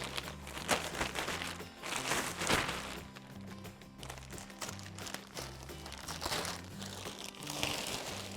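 Plastic packaging wrapped around a hybrid pillow-top mattress crinkles and rustles nearby as it is cut open, with continuous crumpling and scraping in uneven bursts and a low hum underneath, no voices.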